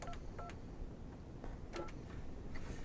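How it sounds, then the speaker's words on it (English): Telephone keypad tones beep in a quick series of short dialing presses on an office phone placing an internal call, faint over a steady background hiss. "dial your extension"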